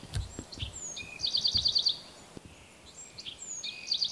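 Bewick's wren singing outdoors in an area with broom, two bright trilled song phrases separated by a pause, moderately distant and faint over soft low background noise.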